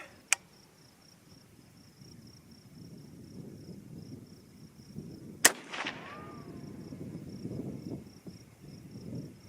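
Two sharp, loud 300 Ham'r rifle shots fired with Sierra and Speer ammunition, one near the start and one midway, each a single crack with a short echoing tail over a steady bed of outdoor crickets.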